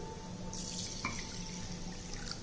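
Water runs quietly from a tap into a vessel while rinsing a couple of spoonfuls of red rice in a home kitchen, a steady faint splash with a small clink partway through.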